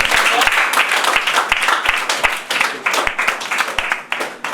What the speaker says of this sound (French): On applaudit Océré.